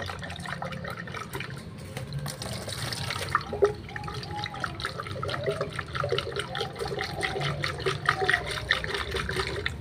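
Brake parts being cleaned by shaking them in water make sloshing, splashing liquid sounds that continue close up throughout, with rhythmic agitation and no speech.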